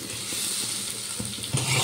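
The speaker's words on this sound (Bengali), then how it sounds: "দিয়ে আবার ভালো করে একসাথে ভেজে নেব" Pumpkin and carrot pieces frying together in hot oil in a kadai, a dense, steady close sizzle with a slight swell near the end and no talking.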